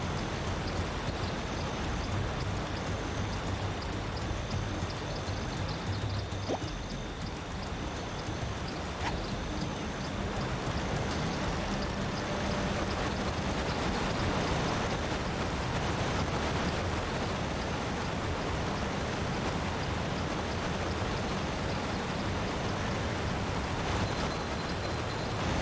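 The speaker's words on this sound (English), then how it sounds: "It sounds like rain, yeah" Rain in the video game SpongeBob SquarePants: Battle for Bikini Bottom, a steady, dense hiss of falling drops that continues unbroken for the whole stretch, with faint game tones underneath.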